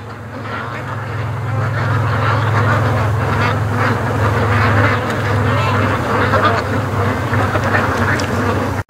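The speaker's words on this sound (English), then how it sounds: "Gotta be Canada geese." Canada geese call near a lakeside creek mouth, honks and squawks rising from a steady, loud outdoor chorus with a low hum running underneath.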